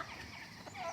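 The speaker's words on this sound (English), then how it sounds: "Morning chickens!" Homestead chickens and turkeys give a brief, faint burst of clucking and soft calls, alone and quiet, at morning feeding time.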